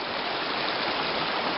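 A creek flows below a high bank with a steady, dense rush of water. The sound is even and continuous throughout, with no voices over it.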